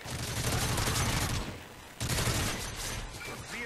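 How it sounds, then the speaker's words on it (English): Sustained burst of automatic gunfire from a sentry gun in the Modern Warfare 3 video game, loud and dense, breaking off briefly before the rattling fire resumes. "Sentry gun."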